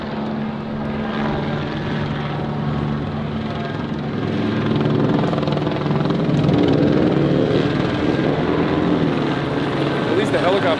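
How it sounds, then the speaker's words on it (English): A police helicopter thunders close overhead at a protest rally, its steady rotor drone loud and unbroken, swelling slightly toward the end. "The helicopter guy's getting his fun."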